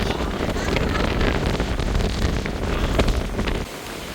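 Strong wind roars and buffets the microphone continuously, loud and steady, before easing slightly near the end.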